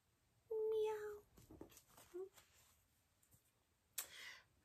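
A voice imitates a cat's meow, a single drawn-out tonal call, followed by some quieter chatter and a short sharp sound near the end.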